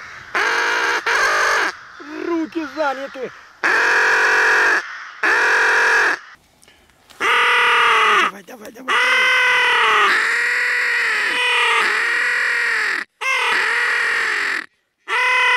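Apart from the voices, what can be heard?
crows cawing, drawn in during spring drake hunt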